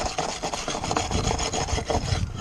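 A wire brush soaked in brake cleaner scrubs a part from an Aprilia RS125 rear wheel and shock, loud close rasping strokes in quick back-and-forth rhythm with no talking.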